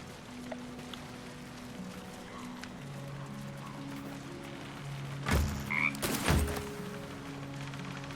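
A frog croaks in the fantasy role-playing game Baldur's Gate III, two loud, close croaks near the end over a soft, sustained musical and ambient background.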